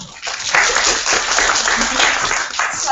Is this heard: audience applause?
yes